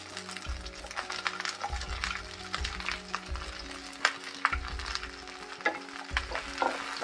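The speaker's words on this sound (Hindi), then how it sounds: "अब इसी बचे हुए ऑयल में हमने छोटा शिमला मिर्च कट कर लिया इस तरह से स्क्वायर पीस में, और एक प्याज कट कर लिया है इस तरह से। अब इसे भी हम फ्राई कर लेते हैं।" Diced capsicum and onion fry in leftover oil over a high flame, a steady close sizzle broken by regular scraping stir strokes, with no talking.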